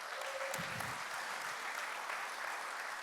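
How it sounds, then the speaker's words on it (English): A church congregation gives a couple celebrating 65 years of marriage a big round of applause, a steady, even wash of many hands clapping that carries evenly across the whole stretch, with a brief low thump early on. "Let's give them a big round of applause."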